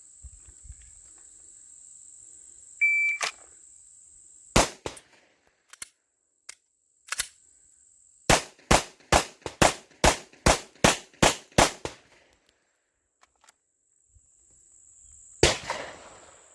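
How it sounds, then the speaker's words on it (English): Twelve sharp handgun shots fired from seven yards on an outdoor range, mostly in a quick, even string of ten after a few spaced opening shots, loud and close over a steady insect-like drone. "from the 7 yards we fire 12 rounds in 25 seconds"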